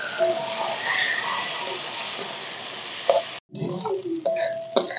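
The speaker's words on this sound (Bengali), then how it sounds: "এখন এই মাছের ওপরেই পেঁয়াজ কুচিগুলো দিয়ে ভালো করে ভেজে নেব।" Dried fish sizzles in a pan with chopped onion while being stirred, a steady close frying hiss broken by a brief silent gap.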